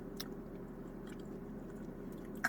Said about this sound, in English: Munching on a chocolate cookie.